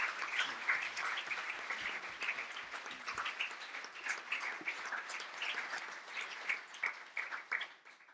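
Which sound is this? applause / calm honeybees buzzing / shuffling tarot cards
applause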